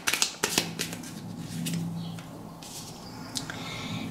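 Tarot cards being shuffled by hand, a few crisp riffling flicks and rapid papery slaps up close, fairly quiet with no talking.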